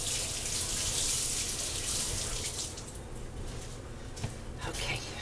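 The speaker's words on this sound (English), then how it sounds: "Okay, I have to wash my hands." Tap water runs steadily into a sink while hands are washed under it in a home kitchen, a continuous splashing hiss with small drips and splashes near the end.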